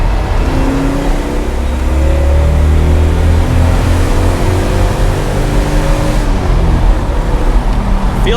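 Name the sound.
1976 Datsun 280Z engine revving on downshift to second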